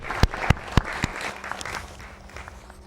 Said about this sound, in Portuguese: Uma salva de palmas para os nossos convidados do outro lado.